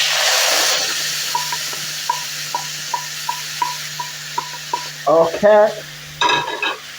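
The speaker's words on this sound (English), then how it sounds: "And then you stir it a little bit." Peanut soup with sweet potatoes is stirred in a pot, giving a series of small, evenly spaced ticking scrapes followed by a few louder clattering strokes near the end, close up, with a brief spoken word.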